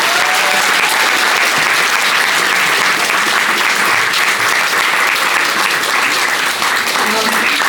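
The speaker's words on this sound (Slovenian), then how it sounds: "še en velik aplavz vsem" Loud, dense applause from an audience at a school event, continuous clapping filling the whole stretch at an even level with no pauses.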